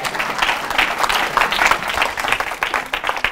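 A church congregation claps and cheers to acclaim the Lord, giving a dense, steady burst of close applause with a brief voice heard faintly.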